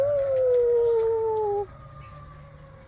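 A Great Pyrenees dog lets out one loud, long, slowly falling howl in response to a fire truck siren, then stops abruptly, leaving faint siren and outdoor background.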